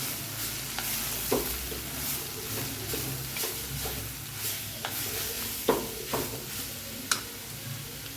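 Beetroot stir-fried in a pan, with a soft steady sizzle and sharp intermittent clicks and taps of a spatula against the pan.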